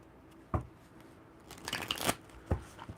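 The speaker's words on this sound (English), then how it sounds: "Okay, I will shuffle." Tarot cards being shuffled by hand, quiet close riffling with a couple of sharp taps and a brief dense flurry of card flutter in the middle.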